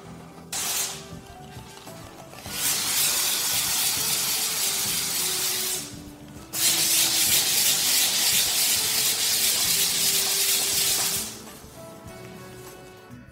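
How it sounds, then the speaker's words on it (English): Dried filler on tiles is lightly sanded by hand, producing two long, steady scratchy hissing passes, each several seconds long, separated by a short pause. "So I lightly sand, wipe with a cloth to remove the dust"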